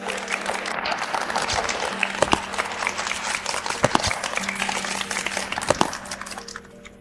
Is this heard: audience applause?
yes